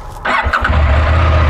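A motorcycle engine catches with a brief cranking burst, then settles into a steady, loud, close low idle rumble.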